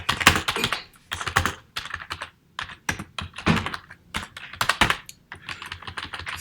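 Close, crisp keystrokes on a computer keyboard as JavaScript code is typed, coming in quick bursts of clicks separated by short pauses, with no voice.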